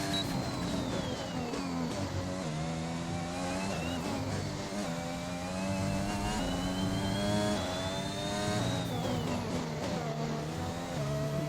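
Formula 1 car engine from the F1 2021 racing game at the Sochi track, a loud continuous high-pitched whine rising and falling with gear shifts as the car pushes wide through corners, with no speech over it.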